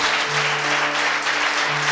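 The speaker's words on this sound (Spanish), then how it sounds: "Dele al Señor su mejor ofrenda de palmas" A church congregation claps together in praise to God, a brief, dense burst of steady applause filling the room with no talk over it.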